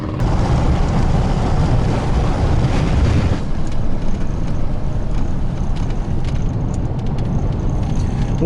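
Strong wind buffeting around a small RV on a road trip, a loud, steady, broadband roar and rumble that carries on without a break throughout.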